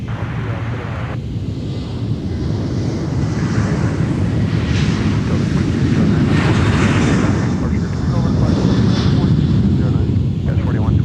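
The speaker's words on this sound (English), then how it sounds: "here comes Delta 1476 headed off to Detroit" A Delta airliner departing MSP airport for Detroit roars past in a loud, sustained broadband jet rumble that swells toward the middle and end, with faint radio chatter beneath.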